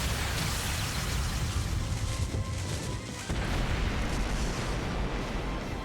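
The burst lance, a laser weapon in The Legend of Heroes: Trails through Daybreak, fires in a loud, sustained roaring blast with a heavy booming low end and a brief dip midway, with no talking.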